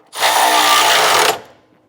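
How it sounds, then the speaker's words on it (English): A power tool drives a 3/4 inch socket to tighten nuts on a front anti-sway bar of a 2019 Ford F-53, giving one loud, steady whir of about a second before it cuts off abruptly. "And to get these tightened down, it's going to be a 3/4 inch socket."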